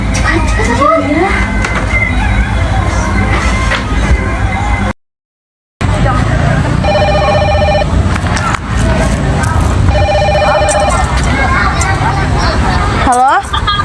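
A telephone ringback tone sounds while calling someone, two separate bursts of ringing at moderate level over a busy background of voices and traffic-like noise.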